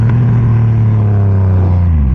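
A Triumph Rocket 3 motorcycle revs hard while its rear tire spins in place, producing a loud, sustained, near engine roar with a steady low drone that climbs slightly in pitch.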